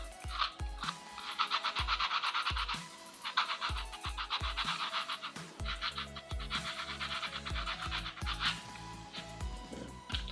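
A rag rubbing a soldering iron tip clean, heard as a run of rapid scratchy strokes in bursts, with faint low clicks between them, close and fairly quiet.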